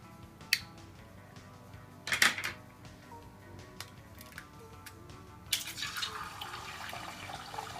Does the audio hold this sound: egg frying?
yes